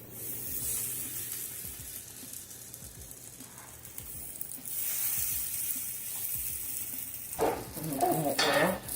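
High-protein banana and farmer's cheese pancakes fry in coconut oil over low-medium heat, giving a close, steady sizzle that swells a little toward the end, with faint scraping from a utensil.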